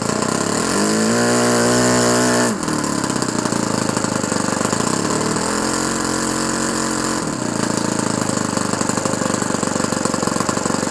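An O.S. FS-120 Surpass four-stroke model engine idles richly on 5% nitro fuel with 20% oil. A loud, close, continuous knocking putter shifts in pitch twice as the idle changes.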